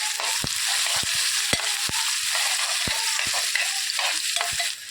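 Turmeric is stirred into onions and eggs in a sizzling pan for an egg curry. A steady close frying hiss runs under repeated sharp spoon knocks against the pan, about two each second.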